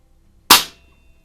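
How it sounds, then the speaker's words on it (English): An air rifle pellet from a Beeman Buck Rail 2027 Carbine strikes a cardboard target across a garage, giving one sharp, loud crack that decays quickly in the quiet. "We're mostly hearing the target hitting the cardboard across the garage more than anything, or the pellet"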